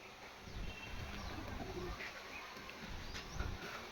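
Pigeons cooing in a coop: soft, low, throaty coos repeat under a steady background hiss, fairly close, with occasional faint chirps and rustles.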